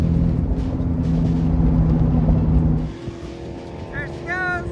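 A Subaru car on a drag strip revs hard with a loud, steady engine roar, then the roar drops away as the car pulls off; people shout and cheer over it.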